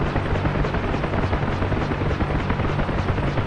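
A Huey helicopter in the DCS flight simulator drones steadily with a loud, continuous rotor and turbine roar and a dense rhythmic blade chop, heard close up without talk.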